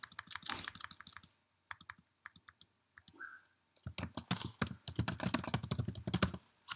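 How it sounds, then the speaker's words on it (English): Keys clatter on a computer keyboard, sparse taps at first, then a pause and a fast, dense burst of typing, close by. "don't type exactly what I'm typing."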